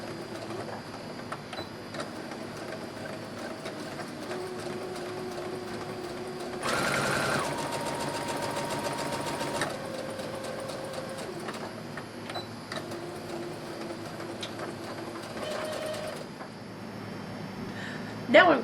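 A sewing machine stitches the shoulder seams of a dress, running in a few steady bursts, one longer and louder than the rest, against a quiet room background.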